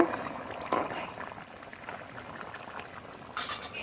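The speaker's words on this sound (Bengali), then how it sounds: "ঢাকনা তুলে নেব ঝোল খুব ভালো জাল হয়ে গেছে" A pot of rohu fish curry with softened potatoes simmers in a faint, steady bubbling hiss, with a couple of light clinks from the pot or lid.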